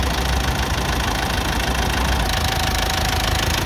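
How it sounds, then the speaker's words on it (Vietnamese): The engine of a 2013 Mitsubishi Triton pickup idles steadily up close with the hood open, a dense, even rumble with a crisp knocking edge and no break across the few seconds. "Và động cơ nổ tương đối là giòn."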